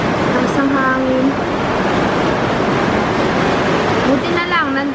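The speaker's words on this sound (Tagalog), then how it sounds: "Ang hangin." Strong storm wind and rain rush in a continuous loud roar, steady throughout, with brief faint voice-like tones showing near the beginning and the end.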